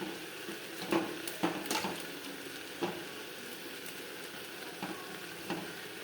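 Onions and tomatoes with salt being stirred in a pan, giving a steady soft sizzle with a few distinct scraping strokes of the spoon spread across the stretch, alone with no talking.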